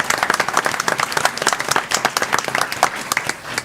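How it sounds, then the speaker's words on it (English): Steady, dense applause from an audience at a school board of education meeting, many hands clapping together in a continuous, moderately loud wash of sharp claps with no speech over it. "join me in giving a round of applause to this foundation"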